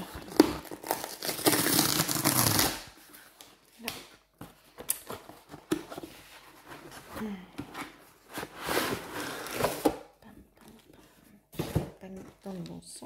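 Package wrapping around a coloring book crinkles and rustles during unboxing, a loud burst of crumpling first, then scattered tearing and handling noises between stretches of speech.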